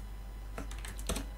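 Short burst of keystrokes on a computer keyboard while typing Python code, several close, crisp clicks in quick succession after a brief pause.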